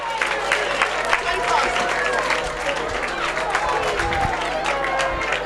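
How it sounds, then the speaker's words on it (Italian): Home crowd at a Promozione-level football match between Tonara and Siliqua applauding their team, dense sustained clapping throughout with some crowd murmur, under a commentator talking. "Tanti applausi scroscianti per la formazione di casa"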